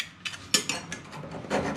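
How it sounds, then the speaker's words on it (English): A diamond file rasping on metal during a brake booster one-way modification on a Toyota Altezza SXE10, a few short close scraping strokes in quick succession. "Bit of diamond filing."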